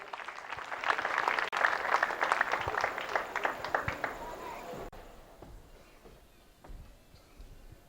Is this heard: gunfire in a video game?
no